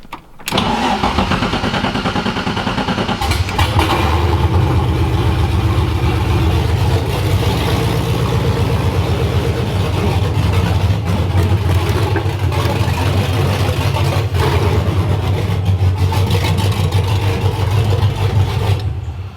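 An engine cranks and catches, then the V8 engine of a BMW E36 runs loudly and steadily at idle with a deep, constant rumble, close by.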